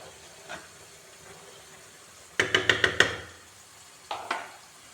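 A utensil stirs ghee rice with coriander leaves in a pot, making a quick burst of about five sharp metallic scrapes and clinks, then two more a moment later, over near silence.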